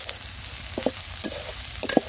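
Chopped onion and green chili fry in a pan for meat pitha, giving a steady close sizzle with a few soft clinks and scrapes of stirring scattered through it.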